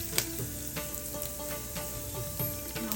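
Mustard seeds, chana dal and urad dal sauté in hot oil with a steady close sizzle, punctuated by sharp popping crackles and light stirring knocks at an irregular pace, no talking.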